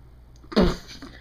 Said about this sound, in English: Sneeze. Cough.